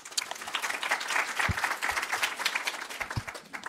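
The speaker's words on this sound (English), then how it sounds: "give him a welcome applause" Welcome applause from a conference audience at a Nordic seminar on refugee employment, steady dense clapping throughout, moderately loud and fairly close, with no voices over it.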